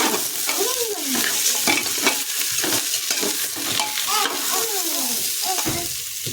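Vegetables frying in ghee give off a loud, steady sizzle, with continuous stirring and spatula scraping against the pan throughout.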